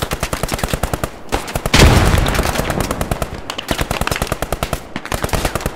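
In the video game Post Scriptum, loud, rapid Browning machine-gun fire rattles in long continuous bursts near Haguenau, Alsace, with a heavier blast partway through and brief pauses between volleys.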